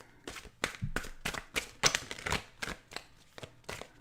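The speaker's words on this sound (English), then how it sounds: "while I shuffle the cards?" A deck of playing cards is shuffled by hand in a series of quick riffling bursts, about a dozen crisp rattles in steady rhythm, close and fairly quiet, with no talking over them.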